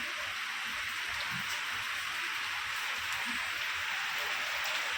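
Heavy rain falls without pause as a power cut hits, a thick, even wash of drops spattering on surfaces, close and loud, with occasional heavier patters and no voices.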